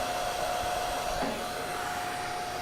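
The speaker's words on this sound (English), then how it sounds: "this is called the Blue InStyler blow dryer" A Blue InStyler blow dryer runs steadily, diffusing damp curly hair, with a constant close whooshing hum and a faint whine throughout.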